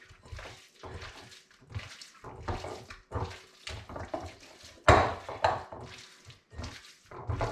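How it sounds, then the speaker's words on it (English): Bare hands squishing and kneading pigeon burger mince seasoned with pepper and salt in a bowl, a close series of wet, sticky squelches in uneven bursts with brief pauses. "putting your hands in, mixing it all together"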